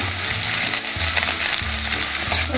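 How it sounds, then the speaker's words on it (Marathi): Onion, green chili and curry leaves sizzle and fry loudly in a pan, a steady hissing crackle with faint stirring bumps throughout. "आता कांदा टाकतो हिरवी मिरची कढीपत्ता"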